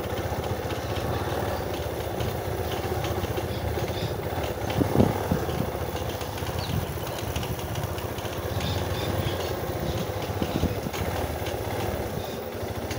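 A motorcycle engine drones continuously while being ridden on a hot, sunny day through the town of São Sebastião do Uatumã, a steady, fairly loud running note with wind rush and no talk.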